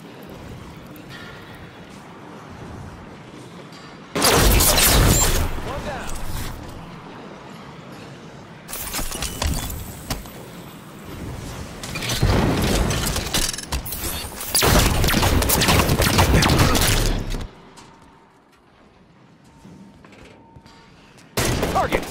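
Sniper rifle fire in a video game, heavy blasts arriving in a few loud blocks separated by quieter stretches of low background noise and mechanical clicks.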